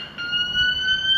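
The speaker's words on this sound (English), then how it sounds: "I've set alarm off" Alarm set off at a scaffold site, a loud continuous high electronic tone with steady pitch sounding nearby throughout.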